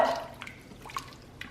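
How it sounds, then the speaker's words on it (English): Soup cans are rinsed out with water in a kitchen, giving a few soft splashes and drips at close range, separated by quiet gaps. "the soup cans are getting rinsed out"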